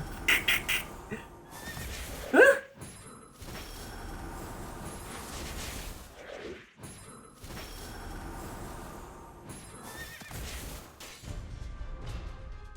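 A horse neighs loudly in a video game, a shrill whinny rising over a steady game soundscape with scattered crashes and booms, and no voices.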